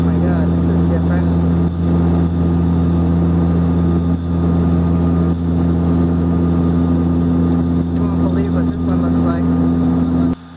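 An airplane's spinning propeller and engine produce a loud, constant droning hum with a steady pitch that holds unchanged the whole time.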